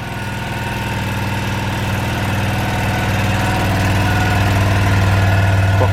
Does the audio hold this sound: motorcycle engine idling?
yes